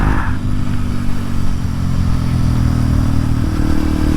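A Kawasaki KLX dirt bike being ridden, its single-cylinder engine droning steadily and loudly up close with a shift in pitch partway through, under heavy wind rush and no talking.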